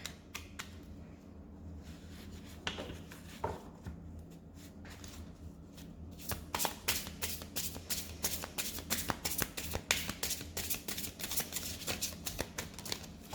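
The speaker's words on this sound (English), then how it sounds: "So I think that these decks are quite shuffled, but just one more" Cards are riffled and shuffled in quick bursts of crisp flutters and snaps, close up, growing busier and more continuous in the second half.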